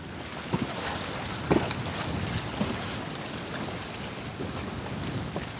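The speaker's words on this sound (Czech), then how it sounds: "No ale to se zvednul teď vítr ještě víc." Strong wind blows at a riverside fishing competition on the Ebro, rumbling steadily against the microphone with a few sharper gusts and knocks, and no one speaks.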